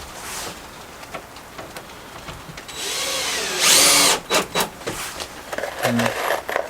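A power drill drives screws into wood while a budget camper bed frame is being built. Short bursts of motor whine are mixed with clatter and handling noise, and a brief voice comes in near the end.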